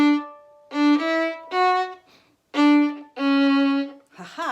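Several sustained bowed violin notes, separated by short rests, form a slow simple melody from Yankee Doodle; a brief voice is heard at the end.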